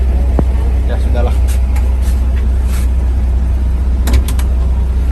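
Old bus engine running while driving, a steady low rumble that fills the cabin throughout, with a few brief clicks and rattles over it.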